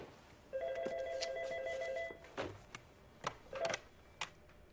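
A telephone rings in one long warbling electronic burst, then a handful of sharp clicks and knocks follow as the receiver is picked up, close and clear with no talking.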